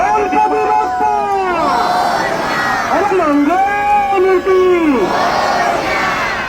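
Dense crowd at a Ganpati immersion procession in Mumbai, a loud sustained roar of many voices with rising and falling shouts and cries layered over steady street noise throughout.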